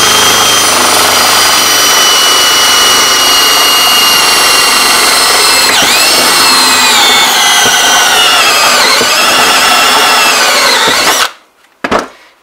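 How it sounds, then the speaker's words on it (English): A power drill fitted with a step bit whines loudly and continuously as it cuts a hole, its pitch dipping under load a few times before the motor stops abruptly. A brief burst of drilling follows. "we have the unit bit in the drill"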